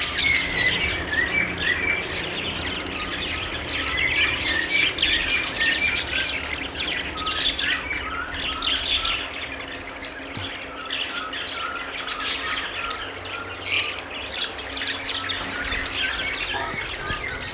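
Green Fischer's lovebirds chirp and squawk continuously in a loud, busy flock chorus, with sharp overlapping calls running throughout and no talking.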